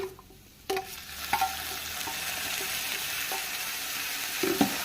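Cooked prawns being stirred into a coconut and chili mixture in a pan for a Kerala-style prawn thoran: a steady, close sizzle broken by a few sharp scrapes and taps of the spoon, with no talking.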